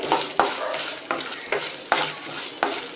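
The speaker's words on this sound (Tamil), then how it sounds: "இது கருகிடாமல் நம்ம வதக்கணும்" Dried red chillies and tamarind sautéing in a pan for coconut thuvaiyal, a bright continuous sizzle punctuated by about six evenly spaced scraping stirs, close and clear with no talk.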